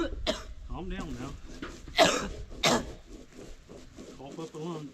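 A person at a backwoods cabin site coughs and clears their throat several times close by, in sharp bursts, while others talk around them.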